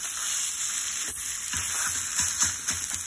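Onions sizzle in a pan for an egg white omelette, a bright steady frying hiss with a string of soft spatula taps and scrapes in the second half, near and moderately loud, no speech, over a constant high-pitched electrical whine.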